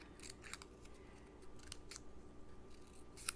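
Scissors snip the bottom of a small paper craft flower, several quiet crisp clips in an uneven rhythm, close by and alone.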